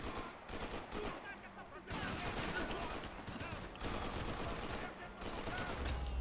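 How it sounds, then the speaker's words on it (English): Sustained gunfire from a firefight in the shooter game Max Payne 3, a dense, steady rattle of many shots running throughout with overlapping noise and some voices underneath. "could he take a few shots, huh? 10 shots to get that guy"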